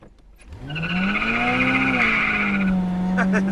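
A 1979 Oldsmobile Calais G-body burns its tires from a rolling launch into second gear, a loud sustained tire squeal rising in pitch over the revving engine, with a voice faintly at the end.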